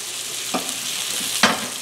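Butter sauce with oregano sizzles in a Tfal Expert Pro stainless steel skillet, a quiet steady frying hiss broken by two brief scraping strokes of a spoon against the pan.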